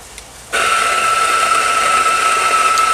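A DF64 coffee grinder starts up after a brief quiet moment and runs with a steady, loud, high-pitched motor whine that continues without a break.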